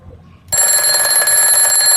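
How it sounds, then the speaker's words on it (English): An Efinito steel twin bell alarm clock bursts into loud, continuous metallic ringing after a brief quiet moment, the rapid bell clatter sustained and close. "This was the alarm of this clock."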